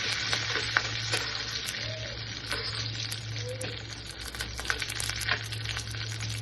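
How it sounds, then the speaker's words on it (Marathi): Cumin seeds, curry leaves and dried red chillies crackle and sizzle in hot oil for a tempering meant for boondi raita, with steady close frying and occasional stirring scrapes. "मी इथे जिरे टाकलं मोगरी टाकलं कढीपत्ता टाकलेला आहे लाल मिरच्या"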